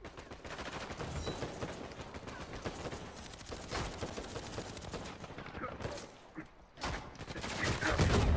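Rapid gunfire in an Uncharted 4 multiplayer match, dense bursts of automatic shots and fusillades crackling throughout, loud and busy, thinning briefly near the end before resuming.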